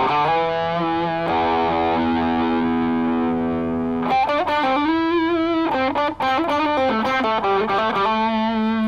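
Electric guitar through a Kinotone Sparks overdrive pedal with resonance turned up, a long sustained distorted chord ringing out, then a run of sharp, singing single notes with heavy saturation.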